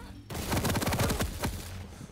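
A nail gun firing in a Quake duel, a rapid, even stream of sharp mechanical shots lasting about two seconds, loud and close.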